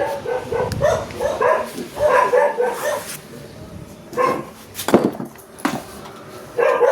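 A dog barks behind a gate in a bursty series of close, sharp barks and yelps, with pauses and a few louder yips near the end, amid background noise.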